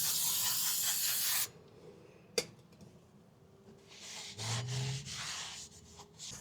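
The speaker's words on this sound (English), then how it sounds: "I'm just going to hit it with some degreaser." Degreaser sprayed from an aerosol can onto a clutch part from a GQ Patrol: a loud, close hiss lasting about a second and a half, then quieter scraping and rubbing sounds.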